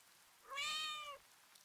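A single drawn-out game-style cat meow, clear and close, rising then falling over about a second, alone against faint background hiss.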